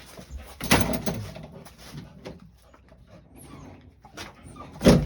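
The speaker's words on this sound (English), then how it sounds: "That's my dog." A dog named Gizer moves around outdoors with its owner, with scattered bumps, scuffs and jangles, a couple of sharper knocks and a faint whimpering note near the end.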